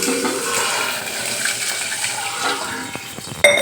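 A continuous rushing of water flowing into a pot of dal tempering on a gas stove, fairly close, ending with a brief clatter.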